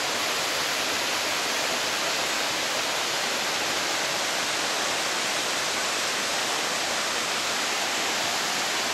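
Small unnamed waterfall on the Bezurinka river near Sochi, a steady, dense broadband rush of falling water that roars evenly and close by for the whole stretch with no voices.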